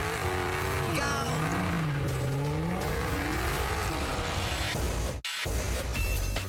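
Cars launch hard off the line in a drag race on a desert runway, engines roaring loudly and steadily with rising revs and tire noise, one sharp break in the sound just past five seconds.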